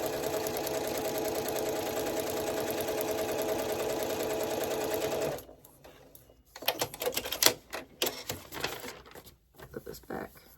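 Close, steady sewing machine run stitching a foundation paper pieced quilt block for a Wensleydale quilt, humming continuously for about five seconds, then stopping into quieter handling clicks and rustles of paper and fabric.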